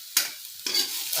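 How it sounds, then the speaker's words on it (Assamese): Garlic paste frying in a pan with browned onions for an egg curry, heard as close bursts of sizzling and stirring scrapes with short pauses between them. "এয়া নহৰুখিনি ভাজি ল'লোঁ"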